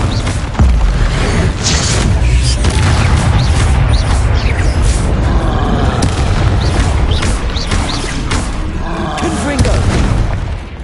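Confringo blasting spells in Hogwarts Legacy erupt as a dense run of booming explosions and crackling impacts, loud and continuous, with voices shouting through the din.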